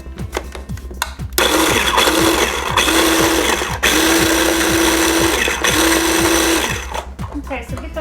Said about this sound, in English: Just put them in your little processor.